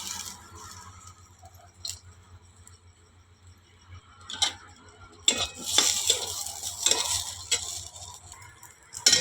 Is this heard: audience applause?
no